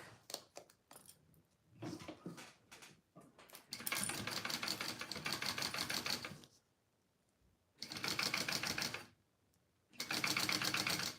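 Sewing machine bastes two bag panels together, starting with short stuttering stitch bursts, then running in fast steady runs of a few seconds separated by pauses, close but fairly quiet, with no talk.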